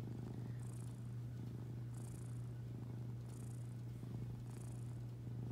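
Steady, rhythmic cat purring close by, with soft breathy pulses repeating about once a second and no talking.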